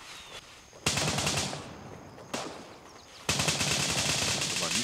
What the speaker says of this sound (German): da waren Schüsse oben am Bunker.